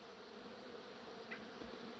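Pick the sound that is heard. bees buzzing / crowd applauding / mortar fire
bees buzzing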